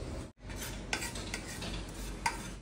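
Poppy seeds being stirred as they roast in a hot kadhai, with a steady scraping of the spoon against the metal, a couple of sharper clinks, and a soft sizzle close by.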